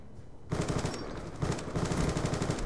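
Peacekeeper submachine gun in Black Ops II firing in rapid bursts, loud and close, with a brief pause before a second stretch of automatic fire.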